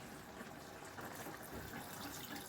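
Water poured from a cup into a pot of chicken on the stove, a soft steady splashing and trickle, faint and continuous with no talking.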